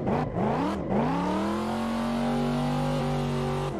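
Car engine in the Assetto Corsa driving game while drifting on a controller, with two quick throttle blips dipping the revs before it settles into a loud, sustained high-rev drone.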